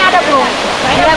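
Gandhari Medaram waterfall roaring as a steady, loud, continuous rush of falling water, close by, with a voice faintly mixed into the wash.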